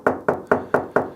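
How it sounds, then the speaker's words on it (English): Five evenly spaced, firm knocks on an apartment unit door, close and crisp with a quick steady rhythm and no talking. "knocking on the door like this"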